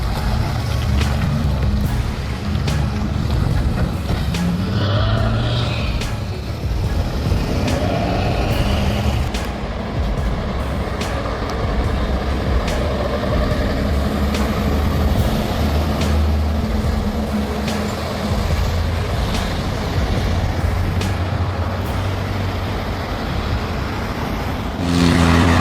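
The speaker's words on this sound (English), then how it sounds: "Watch these behemoths cruise through the snow." Long Swedish big rig trucks drive through snow, a steady loud engine rumble with road noise that persists throughout, with occasional faint hiss and clanks.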